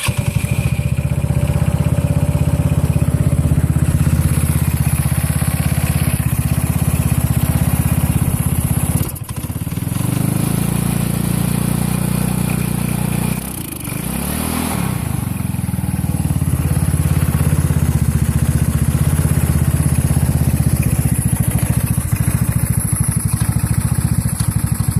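A cold carbide 150cc motorcycle engine starts up and settles into a steady, loud idle, with a brief dip and surge in revving partway through, running alone without talk.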